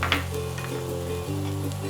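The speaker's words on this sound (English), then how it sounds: "we'll give this a stir until the onions soften a little bit" Onions with Kundapur masala, turmeric and grated coconut sizzle steadily in a pan while being stirred, a continuous close frying hiss with a light scrape or two and no talking.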